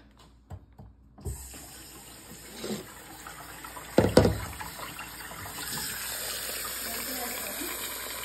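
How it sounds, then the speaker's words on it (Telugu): Water is poured into a bowl of soaking dosa batter ingredients, a short gushing splash after a few light clinks, then a steady faint fill fading out. "ఓకే, సో నీళ్లు పోసాను చక్కగా."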